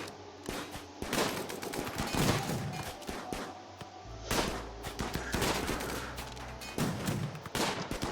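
Rapid bursts of gunfire from colonists shooting in the RimWorld video game, dense crackling volleys of sharp shots with brief pauses, fairly quiet overall.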